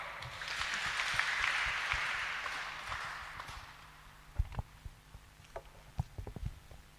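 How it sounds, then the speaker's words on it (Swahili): A few seconds of clapping from a church congregation fades out, followed by scattered knocks and footsteps in a quieter room. "Makofi kwake."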